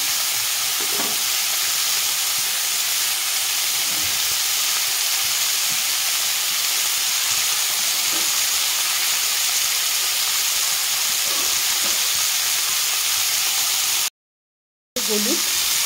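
Cauliflower and potatoes lightly frying in oil, with a loud, steady hiss and sizzle and a few scattered soft stirring knocks, close up, cutting off abruptly near the end before a brief faint sound.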